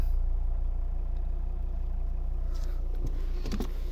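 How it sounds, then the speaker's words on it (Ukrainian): A 2013 Volvo V60 with a 2.0 D4 diesel engine and automatic gearbox, about 240 thousand on the clock, idles with a steady low, even rumble, joined by a few faint clicks and knocks near the end. "Класно, чітко працює двигун"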